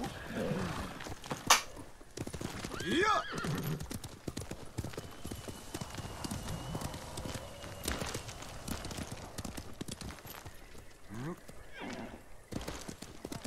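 A horse in the video game Ghost of Tsushima clip-clops at a steady gallop, with a couple of loud neighs and whinnies rising over the hoofbeats, close and moderately loud, while a voice talks underneath.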